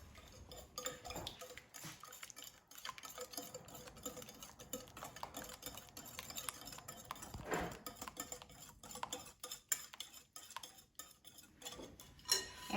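Chocolate chip muffin batter being stirred in a bowl until just combined, with a steady run of soft scraping and the occasional clink of a utensil against the side, close up and fairly quiet.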